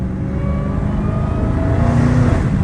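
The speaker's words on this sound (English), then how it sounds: "I can hear the active exhaust. It's like you only hear when you gas it" A Dodge Challenger Hellcat Redeye engine revs steadily, its throaty active exhaust note building louder toward the end, close by with no talking.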